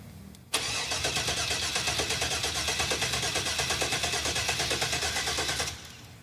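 A 1986 Pontiac Firebird Trans Am engine turns over for over five seconds after a long time off the road, with loud, rapid, rhythmic cranking pulses close by and no voices.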